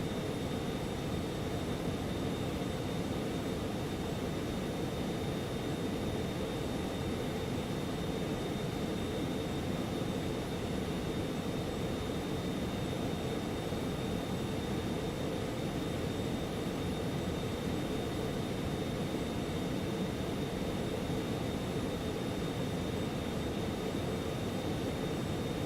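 An airplane engine roars steadily and evenly throughout takeoff and climb, a dense, unbroken drone with no pauses or talk.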